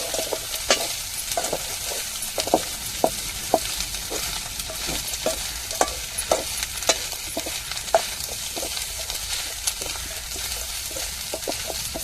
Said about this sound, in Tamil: வத்தல்லாம் போட்டு கருவாடு நல்லா வெந்து வந்துருச்சு